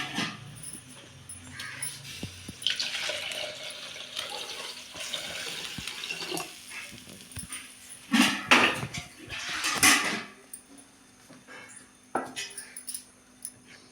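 Water is poured from a tap or vessel into a cooking pot while preparing a village-style dal with tomato and mango, splashing in several bursts with clatters of the pot and dishes in between.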